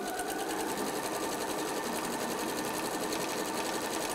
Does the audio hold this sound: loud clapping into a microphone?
no